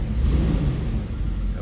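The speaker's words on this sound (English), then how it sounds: "I like the way the car sounds." A 1966 Buick Riviera Sport Coupe engine idles with a steady low rumble, close and fairly loud, alone without talk.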